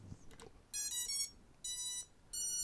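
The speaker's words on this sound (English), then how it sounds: "You will hear the tones of them initializing." A short series of electronic beep tones from drone BLHeli_S ESCs initializing sounds close by: a few quick rising chirps followed by three longer steady beeps, the last ones slightly higher.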